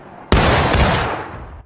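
A sharp, loud crack of musket fire in the video game War of Rights, followed quickly by a second shot and a lingering rumbling echo that fades out.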